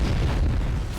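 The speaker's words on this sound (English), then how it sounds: "And then I had to do the blowing up of the bus the next night." A staged film explosion of a bus blown up with pyrotechnics on a night shoot gives a continuous heavy low rumble that holds loud for about a second and tapers slightly, with no voices.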